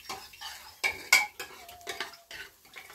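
Chana dal tipped into a pot and stirred with a metal spoon, several clinks and scrapes against the pot with a sharper clatter near the start, fairly quiet and close with no voices.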